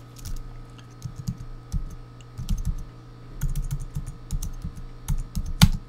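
Tags being typed on a computer keyboard into WordPress, heard as close, quick bursts of key clicks in irregular runs with short pauses, alone over a faint steady hum.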